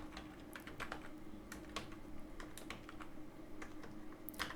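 Quick bursts of keystrokes on a computer keyboard, a few word's worth of rapid clicky taps, close but faint and alone.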